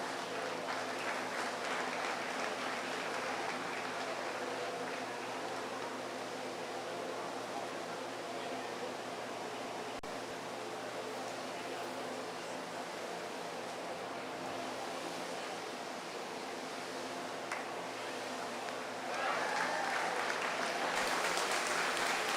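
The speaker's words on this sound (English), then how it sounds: "let's give all these kids a round of applause" Sustained applause from a crowd at a county 4-H dairy beef show, honoring the youth exhibitors; steady clapping that holds at an even level and swells slightly near the end, with no talking over it.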